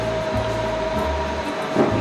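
A home printer runs with a steady mechanical whir and hum while printing a birthday banner, loud and close with no talking.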